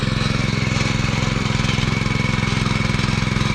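A tractor engine ploughs a rain-soaked rice field, a loud, steady, close throbbing drone with an even rapid pulse and no pauses.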